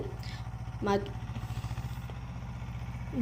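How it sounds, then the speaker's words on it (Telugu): Tractor engine ploughing a pumpkin field, a steady low rumbling drone with a regular pulsing throb running throughout, fairly close, with a brief voice and bird-like chirps above it. "చూడండి వీడియోలో ట్రాక్టర్ తోటి దున్నిస్తున్నారనమాట"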